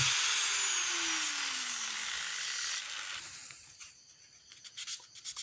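A sanding grinder with 60-grit paper hums and whines steadily against a hard coconut shell, its pitch sliding down as it slows, then winding down into scraping and rubbing noises.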